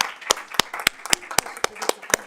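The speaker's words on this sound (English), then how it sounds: "We want to give you a round of applause for still being here" A small round of applause at a public school board of trustees meeting: sparse, distinct claps at an even rhythm from only a few hands, fairly close and unhurried, lasting about two seconds.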